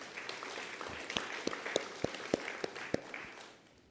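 Applause at the WSAS2022 conference opening ceremony for Mr. Muvatera: a dense crowd clapping with several sharp, evenly spaced individual claps standing out near the front, fading away toward the end.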